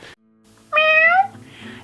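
A single clear cat meow rings out close by, short and rising, with faint background noise around it.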